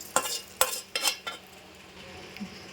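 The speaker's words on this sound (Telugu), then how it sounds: "కొంచెం కల్లేమాకు ఫ్రై చేసుకున్నా వేసుకోవాలండి." Fried curry leaves being stirred into hot chicken pickle, with four quick scraping strokes and clinks of a spoon against the pan, then a quieter stretch.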